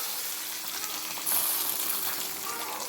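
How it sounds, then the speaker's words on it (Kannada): Spices for a bottle gourd sambar tempering sputter in hot oil, making a soft, steady sizzle that swells briefly into a brighter crackling burst midway before settling back. "ಇವಾಗ ನಾನು ಒಗ್ಗರಣೆ ಕೊಟ್ಕೊಳ್ತಾ ಇದ್ದೀನಿ"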